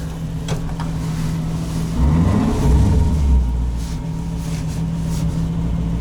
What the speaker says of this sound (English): Dongs, let's go for a little drive